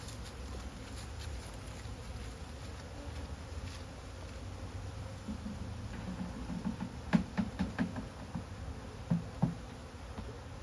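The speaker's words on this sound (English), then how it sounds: "It's raining bees." A late-autumn swarm of honey bees hums in a low continuous drone, with closer individual bees buzzing past in brief louder bursts toward the end over faint outdoor wind.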